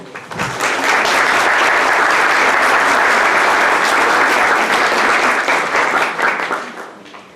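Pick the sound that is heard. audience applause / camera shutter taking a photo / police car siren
audience applause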